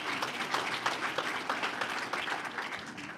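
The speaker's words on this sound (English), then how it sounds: "He's been that's worth an applause." Applause from a town hall audience at a 2023 budget meeting, many hands clapping in a dense, even patter that fills the room and carries on steadily throughout.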